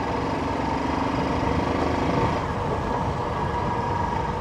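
A motorbike engine runs near a parking area as the rider sets off, giving a steady, close, buzzing drone that holds a constant level with no speech.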